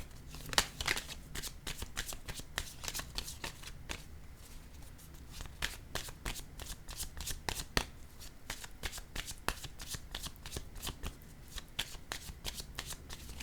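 Tarot cards are shuffled for a reading in a rapid series of crisp riffling and slapping bursts, close and fairly quiet, continuing steadily with brief pauses and no talking.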